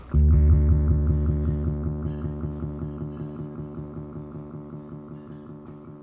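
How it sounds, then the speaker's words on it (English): A single low bass guitar note through an analog delay pedal rings out and fades slowly while delayed repeats pulse steadily underneath, creating a throbbing, echoing tail with no talking. "It's an analog delay. It's amazing."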